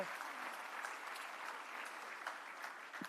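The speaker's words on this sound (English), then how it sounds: "Another round of applause for Jembekon." Steady applause from an audience at the opening session of the Caribbean Poultry Association international event, honoring performers; a dense, even patter of clapping sustained throughout at moderate distance, with no talk over it.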